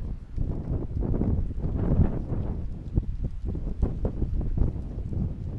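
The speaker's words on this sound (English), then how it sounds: "It is windy." Gusty outdoor wind during a walk with a Samoyed dog, rumbling against the microphone in irregular low buffets that rise and fall throughout.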